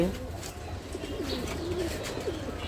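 Pigeons coo softly nearby, low throaty warbles repeating over a faint background murmur.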